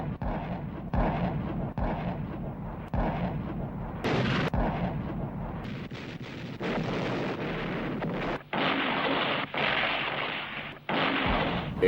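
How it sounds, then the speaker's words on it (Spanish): German artillery barrage and rocket fire on a December night in World War II: a continuous rolling series of loud booms and blasts, some sharper bursts standing out, with steady rumble between them and no speech. "Una demoledora barrera de artillería alemana y disparos de cohetes iluminan los cielos"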